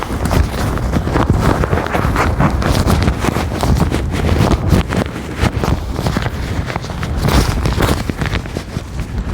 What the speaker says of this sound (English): because that's a bit windy now